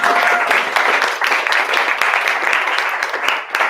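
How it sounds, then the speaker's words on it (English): An audience at a live real-estate presentation bursts into applause, a dense, loud wash of many hands clapping together that holds steady for a few seconds without letting up. "You can clap now."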